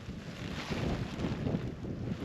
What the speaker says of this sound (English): the wind is coming from that direction